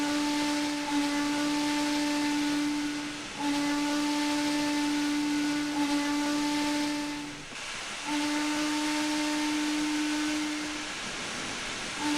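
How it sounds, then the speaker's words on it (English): A video game U.S. steam locomotive whistle from Trainz Railroad Simulator 2022 blows in long, loud, sustained blasts, three in a row with brief breaks, over a constant hissing rush. "When operating a U.S. steam loco, the whistle should be sounded loudly, proudly, and often"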